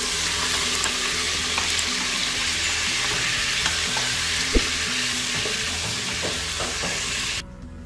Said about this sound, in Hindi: मैंने घी को गरम कर लिया है। अब हम इसमें डालेंगे गोश्त